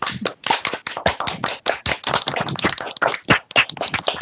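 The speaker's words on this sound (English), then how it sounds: "can we have a huge round of applause for our speakers, please?" A small audience at a London Tech Week event for Croydon local businesses claps for the speakers, giving distinct, fairly sparse hand claps at close range with no voices.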